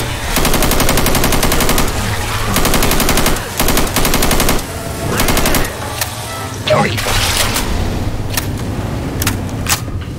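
Rapid automatic gunfire in Left 4 Dead 2, loud repeated bursts with short pauses between volleys, mixed with game noise and clatter toward the end.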